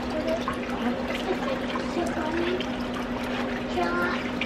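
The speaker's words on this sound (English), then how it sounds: "that's the water that the filter goes through." Water runs and trickles steadily through a filter, a continuous close liquid splashing with a faint hum beneath and a few small drips on top.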